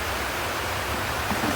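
Heavy rain pours down outdoors as a dense, constant hiss and roar, with no breaks or individual drops standing out.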